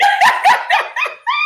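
A dog barks in a quick series of five or six sharp, loud yips and barks close to the mic, with no talk over it.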